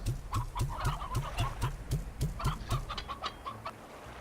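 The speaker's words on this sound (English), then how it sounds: "No sense in passing up a couple of stony hens when we can." Stony hens in the video game Slime Rancher cluck in a steady rapid rhythm of repeated short notes, close and fairly loud, with no talking over them.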